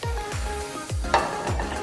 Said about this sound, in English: Still has a little sizzle.